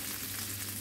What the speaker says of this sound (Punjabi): ਮੈਂ ਇਹਨੂੰ ਪਿਆਜ਼ ਨੂੰ ਮਿੰਟ ਕੁ ਲਈ ਭੁੰਨ ਲਿਆ ਆ